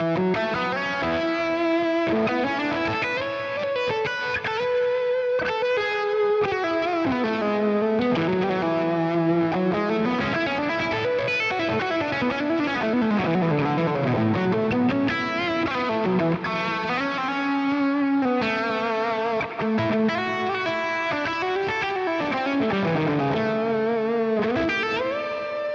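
Overdriven electric guitar played through a compressor, delay and reverb pedals and a Friedman IR-X, a continuous melodic passage with sustained, echoing notes and gritty distortion, loud and steady throughout with no talking.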